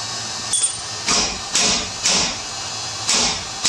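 A steel hammer striking a Jeep Wrangler leaf spring during suspension work, five loud, close metallic blows with a ringing decay, evenly spaced about half a second to a second apart.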